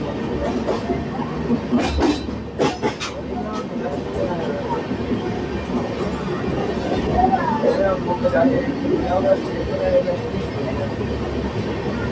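Aboard the Humsafar Express as it runs through Dwarapudi station without stopping: a continuous rolling rumble with rhythmic wheel clatter and a few metallic clinks. Someone talks over the train noise.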